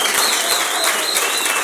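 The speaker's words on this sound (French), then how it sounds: "ça mérite quand même des acclamations" Loud applause and cheering from an audience at a music talent-show semi-final in Goma, a dense wash of clapping with a few high whistles on top, steady and close throughout.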